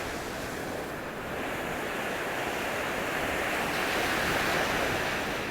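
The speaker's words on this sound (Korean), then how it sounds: "하얀 파도가 모래사장까지 밀려왔다가 밀려내려가기를 반복한다." Winter sea surf at a sandy beach in Gangneung, with waves washing up the sand and drawing back in a steady, full roar that swells slightly toward the end. No voices, with some wind on the microphone.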